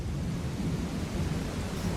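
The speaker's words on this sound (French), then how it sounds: "Tout de suite, le bruit de la pluie prend." Steady rain with low rumbling thunder forms a dense, continuous storm bed, a sound effect layered behind a tabletop role-playing session as a ship lands; no one speaks over it.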